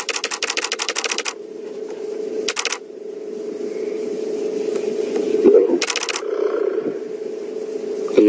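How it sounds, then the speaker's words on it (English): A still camera fires rapid clusters of shutter clicks on a safari game drive, three bursts of several quick shots each, heard close over a steady low vehicle hum and faint background talk. "if you hear that click, click, click, that's just my camera. Taking a few still shots."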